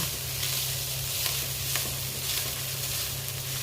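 Rice fries in a pan like fried rice, giving a steady, bright sizzle with faint scrapes of stirring, close and continuous with no talk.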